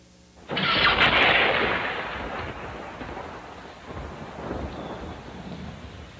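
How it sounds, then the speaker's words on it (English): A heavy thunderstorm with a sudden, loud thunderclap that rolls into a long fading rumble, with rain hissing steadily underneath and a softer second rumble near the end. "Oh dear, it's raining cats and dogs."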